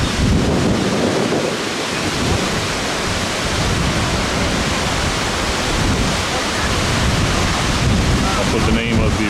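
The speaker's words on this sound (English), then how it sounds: "Probably a good stiff 35-mile-an-hour wind." Strong, stiff wind of around 35 miles an hour buffets the microphone beside weeping waterfalls in Iceland, a loud continuous roar with no letup throughout.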